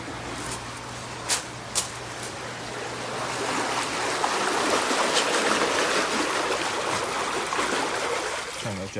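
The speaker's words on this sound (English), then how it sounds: "Turn those jets off so we can talk a little easier." Water jets of an Aspen Spas Pinnacle ES hot tub churn in a continuous rushing, bubbling wash that swells louder midway, with a few brief clicks at the start.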